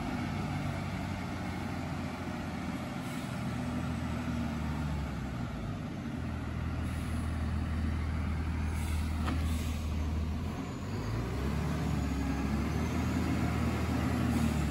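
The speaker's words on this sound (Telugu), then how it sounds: "ఇప్పుడైతే హెవీ లోడ్ లారీ వస్తుంది, మరి ఒక పక్క నుంచి ఒక లారీ వస్తుంది" A heavy-load lorry approaches on a narrow mountain road, a steady loud diesel engine rumble running throughout with faint brake hiss and mechanical noise above it.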